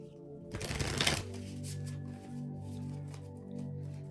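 A quick riffle of shuffled cards, a dense crisp fluttering burst over soft background music, followed by a few light card taps.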